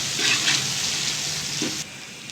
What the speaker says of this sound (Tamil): பச்சை மிளகாய், வெங்காயம், நல்லா பரட்டி விடுங்க.